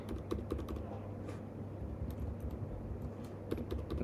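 Rapid clicking keystrokes on a computer keyboard while entering a chart axis label in Excel, steady and close with a low background hum, no speech.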